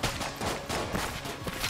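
Rapid gunfire in the dungeon-crawler game Enter the Gungeon, a dense burst of repeated shots in an irregular rhythm, loud and close, with no voices present.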